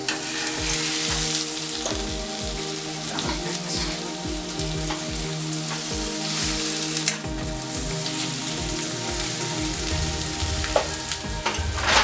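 Breadcrumb-coated hash browns deep-fry in a pan, a dense, continuous sizzle and crackle with scattered pops and occasional stirring clinks, steady and close throughout.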